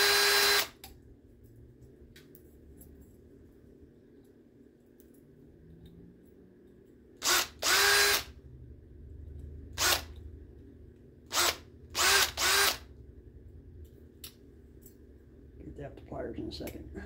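A power drill bores out the rivets on a conga drum in several short, loud whirring bursts, the first pair close together and the rest spaced a second or two apart, with quiet handling noise in the gaps.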